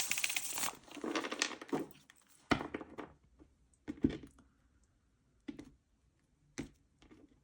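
Tarot cards are shuffled in quick papery bursts, followed by a few separate flicks and taps with quiet gaps between them.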